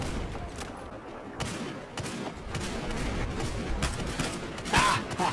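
Gunfire in the game Counter-Strike: irregular shots and short bursts crack out over a busy background of rumbling noise, with one louder burst near the end.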